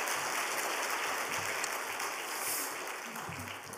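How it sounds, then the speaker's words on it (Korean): An audience applauds during a Wednesday church worship service at a deaf congregation's dedication service, with dense, steady clapping filling the room at a moderate level for several seconds before slightly fading. "우리 다시 한번 우리 격려와 감사의 박수 하겠습니다."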